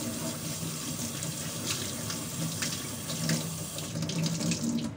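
Running tap water pours steadily over a large fish being rinsed in a sink before going into a soup with potato and tomato, a continuous close splashing stream with small shifts as the fish is turned.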